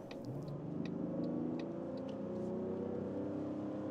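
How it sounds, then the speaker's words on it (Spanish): A 2025 Mazda CX-60 SUV engine steadily builds in pitch and revs as it accelerates uphill from 70 km/h, with a smooth continuous drone and no talking. "vamos a hacer una aceleración un poco cuesta arriba saliendo desde 70 km por hora"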